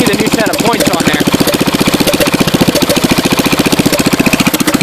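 A Kohler K301 engine swapped into a John Deere 210 lawn tractor runs loud and close with no muffler fitted, a rapid, even, chugging exhaust beat throughout.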